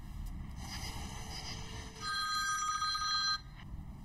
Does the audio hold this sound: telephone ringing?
yes